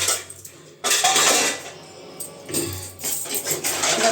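Dishes and utensils are washed by hand, with metal pots and cutlery clinking and scraping in loud close bursts between quieter pauses and running water.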